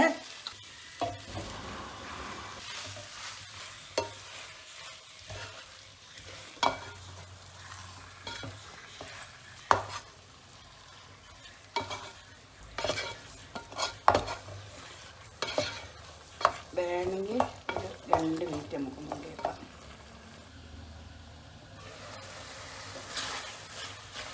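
Beef goes into a cooked tomato masala and fries, a steady sizzle punctuated by scraping, clattering stirs of a spoon against the pan, close up with no talking.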